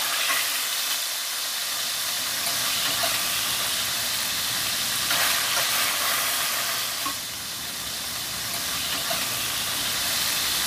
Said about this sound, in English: sear the meat for a while, and once it becomes a little brown, remove it from the hot pan